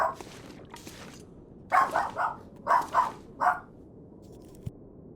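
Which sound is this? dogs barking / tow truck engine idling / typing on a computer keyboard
dogs barking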